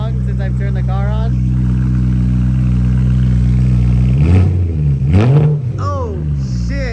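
BMW E92 M3 idling with a loud Bomiz valved exhaust, a deep steady rumble close by, then briefly revved with a rising growl while people talk over it.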